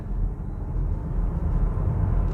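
A Volvo EC40 electric car pulls away hard at full throttle from about 30 km/h on an uphill climb, giving a steady low road and motor drone with tyre rumble that stays even and fairly loud throughout, with no talking.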